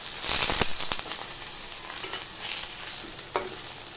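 Rohu fish paturi wrapped in bottle gourd leaves frying in oil in a pan, with a few sharp clatters as the parcels are flipped, then a steady soft sizzle at close range, no talk.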